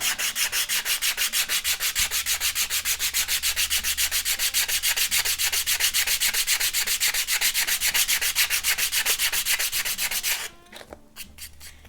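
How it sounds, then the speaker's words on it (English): Sandpaper run along a groove to round the edge of an Estes Vogel model rocket part, a fast, even back-and-forth rasp repeated many times, close and loud, stopping near the end with a quieter scrape, no voices. "Just fit it into that groove, and then just run your sandpaper."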